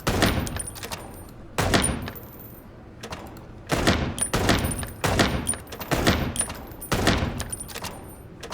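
Gunfire in the Chicken Police video game goes off as a series of loud, sharp shots, about seven over several seconds at irregular intervals. Each blast trails off with a ringing metallic decay.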